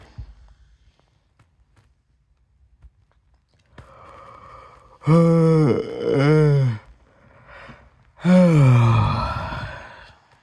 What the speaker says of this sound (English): Yep, y'all heard that yawn, man.